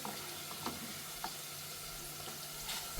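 Grated coconut with turmeric fries in a hot kadai, a faint, steady sizzle with a few soft stirring clicks and a sudden thump right at the end.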